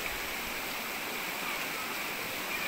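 Water rushing over the Kaeng Tali rapids, a steady, full-bodied roar of flowing stream heard close and unbroken, with no voices over it.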